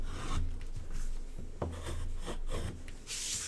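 A pen or scoring tool scrapes along card stock in a few short, papery strokes, close and alone with no talking, the dry rasps coming in quick pulses.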